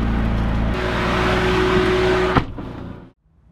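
McLaren 570GT supercar engine running steadily up close, a loud continuous drone with a low hum, ending in a sharp clunk before it cuts to near silence.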